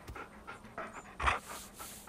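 Animal panting in Far Cry Primal as the player pets a wolf-like creature, quick rhythmic breathy bursts repeating close up and fairly quiet, with no talk over it.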